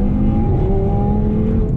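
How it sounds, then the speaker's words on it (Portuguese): An Audi TT with nitro revving hard, a continuous loud engine roar with rising pitch across two seconds, close and alone without talk. "Na hora que enche o motor é surreal"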